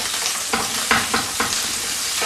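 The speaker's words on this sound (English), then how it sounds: "When the oil's hot, we're going to start putting the meatballs on. And we want to brown the meatballs on all sides." Meatballs fry in hot oil in a pan, a steady close crackling sizzle with a few soft stirring or turning bumps and no voices.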